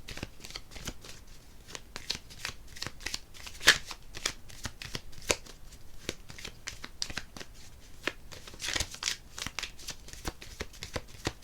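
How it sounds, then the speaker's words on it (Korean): Tarot cards are shuffled by hand at close range, a run of soft riffling slaps and papery flutters in irregular bursts, quiet and alone. "그래서 제가 추가 카드를 한번 뽑아볼게요."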